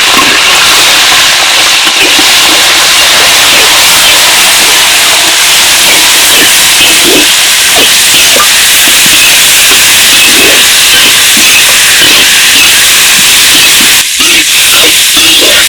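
Freshly chopped shallots hiss and sizzle loudly in hot oil with green chilies and curry leaves, cooked outdoors in a village. The sound is a close, continuous, steady roar of frying with no pauses.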